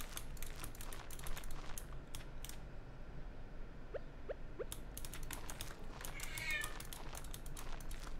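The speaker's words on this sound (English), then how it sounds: "Sorry about my cat, everybody." A house cat lets out a few short faint meows in the middle of steady computer keyboard typing, all under a low background hum.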